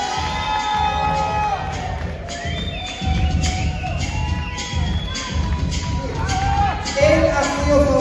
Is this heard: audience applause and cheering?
yes